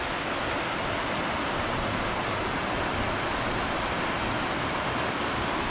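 A mountain stream in the Alps on the Aiguilles Rouges trail rushes in a loud, steady broadband hiss and roar, continuous and close with no voices over it.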